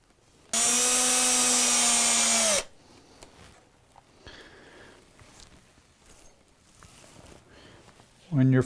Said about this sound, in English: So now I'm going to cheat and use an electric screwdriver.